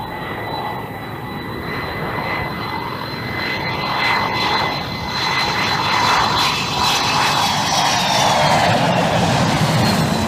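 A loud, steady roar of twenty-five to thirty aircraft circling overhead, swelling gradually with no talking.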